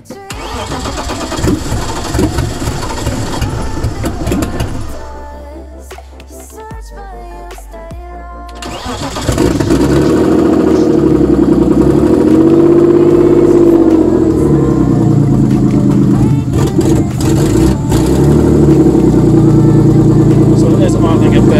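A BMW E46 drift build, set up for a turbo, cranks and fires, then settles into a loud, steady engine run with rising and falling revs. The engine is heard close up throughout, with no talk over it.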